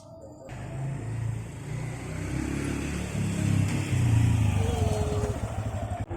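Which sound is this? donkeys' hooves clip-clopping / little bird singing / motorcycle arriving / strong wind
motorcycle arriving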